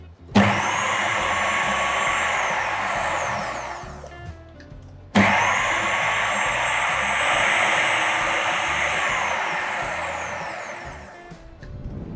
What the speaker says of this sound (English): we're going to pulse in short bursts until all of this is mixed and it's nice and fine